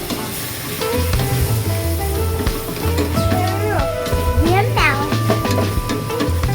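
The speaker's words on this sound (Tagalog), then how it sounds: "Lagay na natin ang sayote at saka carrots. At ating i-mekos-mekos." Chayote and carrots being stirred in a pan, with steady sizzling and scraping under a mix of background sounds, continuous and fairly close.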